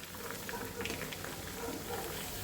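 Sabudana vada deep-frying in oil, a continuous bubbling, crackling fizz at moderate, even level with no break across the moment.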